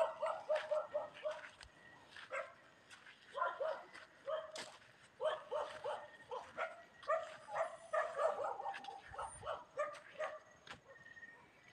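Several dogs bark near a house in a dark area at night, with repeated sharp barks and yips in uneven bursts throughout, some close and loud, others overlapping.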